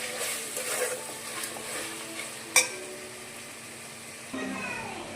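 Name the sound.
stirring salted chicken biryani mixture in a pot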